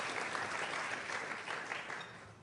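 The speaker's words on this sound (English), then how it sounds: "You can clap for Ramadan Kareem." A crowd gives warm, continuous applause for a Ramadan Kareem greeting at a speech, the clapping even and full throughout before fading slightly at the close.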